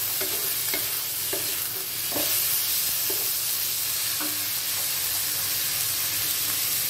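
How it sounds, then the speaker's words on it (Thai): Pork belly stir-fried in a hot pan with bamboo shoots, a continuous loud sizzle and hiss with repeated scraping strokes of the spatula at an irregular rhythm. "ผัดหมูก่อนค่ะ"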